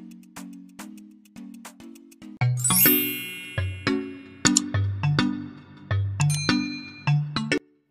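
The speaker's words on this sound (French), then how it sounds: "clique sur la cloche de notification pour ne rien manquer de mes nouvelles vidéos" A notification bell sound effect plays a bright run of ringing dings and chimes in a quick melodic sequence, with a shimmering swell partway through. Nobody speaks.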